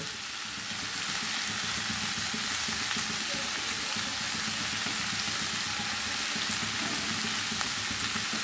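Mixed vegetable labra fries in a pan over a medium gas flame, giving a constant close sizzle with faint stirring clicks and no talking.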